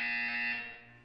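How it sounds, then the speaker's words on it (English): A harsh electronic buzzer from the video game Portal 2, a single loud, steady tone sounding alone that fades away within about a second. "When you hear the buzzer, look up at the ceiling"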